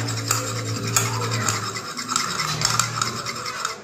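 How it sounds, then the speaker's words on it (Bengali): A spoon stirs and scrapes chili chicken sauce with soy sauce and tomato ketchup in a pan, producing steady rasping and scraping strokes with occasional metallic clinks, close up and without speech. "এটা ভালোভাবে মিশিয়ে নিতে হবে।"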